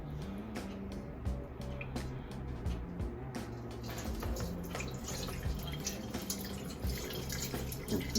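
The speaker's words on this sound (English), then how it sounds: "I'm just pouring it out over the strainer in case anything falls out." Water poured off rice over a kitchen strainer, a continuous trickling, dripping stream with occasional splashes and light clatter, fairly close and without speech.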